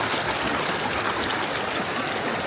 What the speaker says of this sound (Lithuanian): Upė.